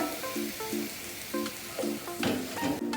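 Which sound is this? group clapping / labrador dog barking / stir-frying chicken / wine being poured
stir-frying chicken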